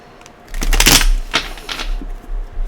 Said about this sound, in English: So just going to give this a good shuffle.